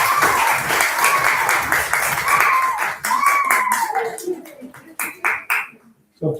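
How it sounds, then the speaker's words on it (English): Audience at a disability charity's annual general meeting gives a round of applause for trustees and staff, a dense wash of clapping that thins into scattered claps and fades near the end. "Ask everyone to join me in a round of applause for the trustees and staff of this organisation."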